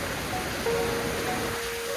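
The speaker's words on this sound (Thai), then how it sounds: "ฝนตกครับ น้ำตก" A waterfall at Khao Chao Bo Thong pours in storm-season rain, a dense, loud, even rush of water close by with no voices.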